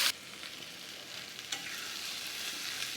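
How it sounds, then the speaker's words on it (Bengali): Spinach just added to fried onion and cumin in a hot pan, a strong burst of sizzle at first settling into a steady frying hiss with stirring scrapes. "ভাজা হয়ে গেছে, এবার শাকগুলা দিয়ে দেব।"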